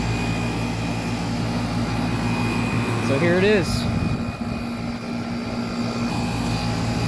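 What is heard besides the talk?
1995 Tempstar central air conditioner, Copeland reciprocating compressor running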